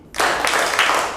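Audience in an ice-breaking game bursting into clapping, a dense, sustained round of hands filling about a second, fairly loud and close, with no talk over it.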